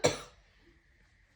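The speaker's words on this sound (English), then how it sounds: "As I warned you, there may be some coughs here and there." A woman gives a single close cough that sounds like a throat clearing, an abrupt burst that fades quickly into near silence.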